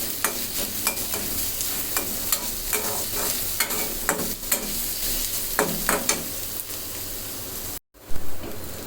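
Onions and garlic for a sardine fish mash sizzle in hot oil, frying toward light brown, with a steady crackle, repeated stirring scrapes and a few sharp pops, close and clear, with no talking.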